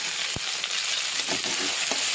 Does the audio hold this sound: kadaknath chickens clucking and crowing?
no